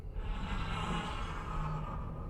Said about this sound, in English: I hear her breathing.